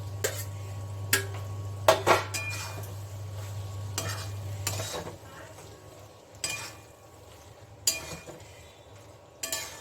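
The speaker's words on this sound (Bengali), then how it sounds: "ঢেঁড়সগুলোকে আমি এখন এখানে ছেড়ে দিচ্ছি" Okra frying in hot oil in a kadai as a spatula stirs and knocks against the metal, with a low sizzle under scattered sharp clinks and scrapes.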